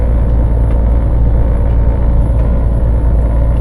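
Heavy lorry engine dropping down through the gearbox, a loud, steady low-pitched drone and rumble running close and continuous with no voices.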